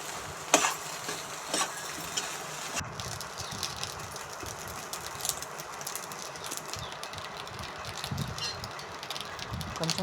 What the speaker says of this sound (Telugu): కారం వాసన అంతా పోయేంత వరకు ఫ్రై చేసుకోవాలి.